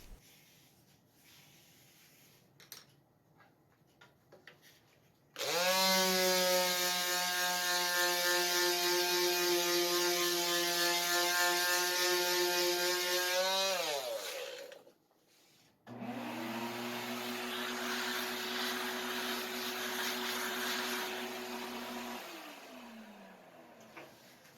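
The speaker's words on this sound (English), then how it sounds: "and then I'm going to sand the marks away." A power sander works high spots on a wooden boat hull, whining steadily in two long runs. Each run winds down at the end, and the sound is close and loud against a quiet room.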